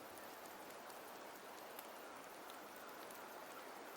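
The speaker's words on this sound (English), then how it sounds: "The rains in Septimont never seem eager to leave this season." Steady rain falls in Septimont in Wuthering Waves, a soft, even hiss of drops on surfaces, faint and continuous with no voices.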